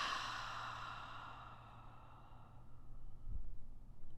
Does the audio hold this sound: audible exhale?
yes